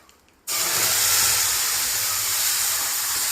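Onion chutney poured into hot tempering with curry leaves, gas switched off, bursts into a loud, steady sizzle that starts abruptly and holds without fading.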